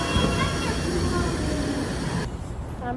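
Rumbling noise fills the inside of a moving commuter train in Japan, a steady broadband roar of wheels and carriage with a voice talking over it.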